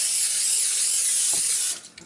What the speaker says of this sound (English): I'm spraying it with a vegetable oil.